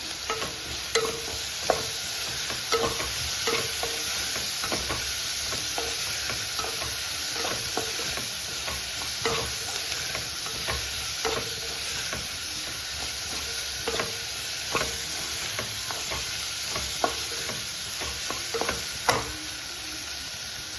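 Masala dosa filling with turmeric sautés in a pan, a steady sizzle running throughout while a utensil stirs and taps at regular intervals, close and fairly loud.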